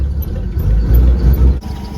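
A 1953 Dodge M37 military truck's 230 cubic inch flathead six-cylinder runs close by, a loud, low, steady engine rumble with slight pulsing over about two seconds, with no voices over it.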